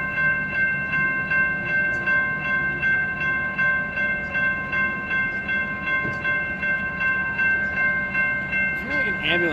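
A Union Pacific freight train rolls steadily past at close range, its continuous rumble and wheel noise holding throughout while a horn-like tone sounds above it.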